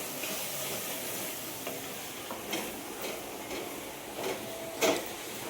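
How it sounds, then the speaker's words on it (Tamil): Masala mixture stirred in a pan, with a soft continuous sizzle and a few light, irregular scraping taps of a spoon, fairly faint and without talk. "நல்லா மிக்ஸ் பண்ணிக்கோங்க"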